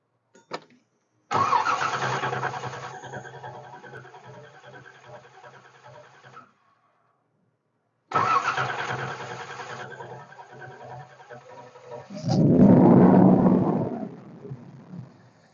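A 1981 Corvette engine cranks after a carburetor rebuild, with two long rattling starter-and-engine runs separated by a pause, then a louder roar as it catches, close to the car.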